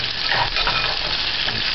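Garlic and scallion sautéing in a pan for a salt mackerel stew, a steady close sizzle with soft stirring scrapes running throughout, no voices.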